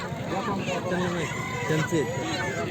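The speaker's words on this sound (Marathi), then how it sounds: "त्याचबरोबर या ठिकाणी बघू शकता अशा कोंबड्यासुद्धा या ठिकाणी पाहायला मिळतात." Chickens and roosters at a village poultry market in Lonand give repeated clucks and drawn-out crowing calls, fairly close, over a busy murmur of people talking in the background.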